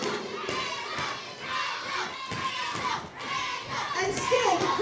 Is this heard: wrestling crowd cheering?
yes